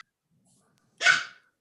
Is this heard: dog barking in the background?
yes